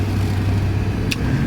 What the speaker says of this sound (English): Nice torque out of that V8.